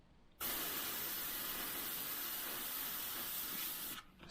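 A continuous airbrush spray of paint runs steadily for several seconds at close range, a smooth broadband hiss that starts abruptly and stops just as sharply, with no talking.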